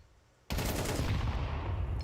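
Sustained automatic gunfire from Counter-Strike, starting abruptly after a quiet half second and continuing as a loud, dense burst of rapid shots.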